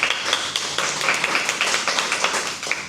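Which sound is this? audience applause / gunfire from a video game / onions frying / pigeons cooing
audience applause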